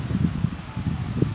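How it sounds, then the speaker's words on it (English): Strong wind blowing outdoors at a beach buffets the microphone with low, uneven rumbling gusts and soft rustling. "my hair is really screwy because it's really windy out"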